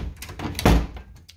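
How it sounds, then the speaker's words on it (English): A door is shut indoors with a single deep, muffled thunk in the middle, set against low room noise and faint rustling. "I forgot to shut the door."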